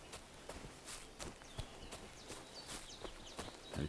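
Horse walking in the video game Kingdom Come Deliverance 2, its hooves producing a steady series of clip-clop steps at an even pace, fairly quiet and close, with no talk.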